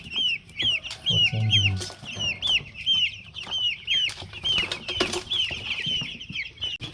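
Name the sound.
14-day-old broiler chickens clucking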